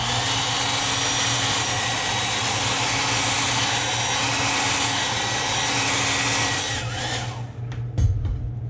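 Heat gun blowing hot air to set paint on a Megabass-style crankbait lure blank, a steady loud whooshing roar for several seconds that then tapers off, followed by a couple of light handling knocks.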